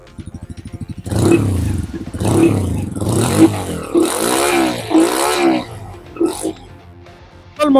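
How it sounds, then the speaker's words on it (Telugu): Bajaj Freedom 125 CNG motorcycle exhaust, first a steady thumping idle, then a series of loud revs rising and falling in repeated bursts, heard close with no talking. "ఈ మోటార్ సైకిల్ రైడ్ చేసినప్పుడు ఎగ్జాస్ట్ నోట్ ఎలా ఉంది"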